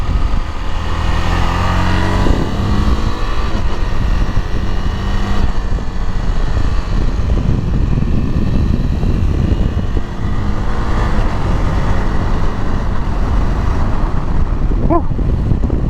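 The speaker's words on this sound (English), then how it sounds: "The manual, using the clutch to rev match and stuff." Manual-transmission car engine droning and revving loudly and steadily from inside the cabin on a winding highway, with rises and dips in pitch as gears are shifted.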